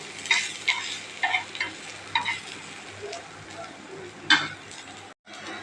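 Bread slices toast with a pinch of cumin and sesame in a pan, scraped and stirred in short clustered bursts over a low steady sizzle, fairly close, with a brief dropout near the end.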